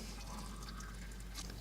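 Hot water pours from a kettle into a self-heating ration pack drink pouch, a low, steady trickling fill that runs quietly and evenly throughout.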